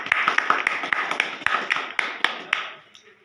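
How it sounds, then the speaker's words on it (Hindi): A few people clap their hands, about a dozen sharp, close slaps in an uneven rhythm that fade out toward the end. "ताली बजाओ ताली"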